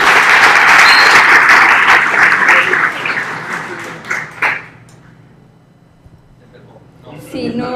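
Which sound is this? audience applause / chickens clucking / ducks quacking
audience applause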